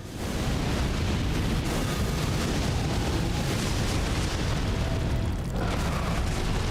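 Fire Giant's fire attack exploding in Elden Ring, a loud sustained roaring blast of rumbling fire that fills the whole stretch with no pauses.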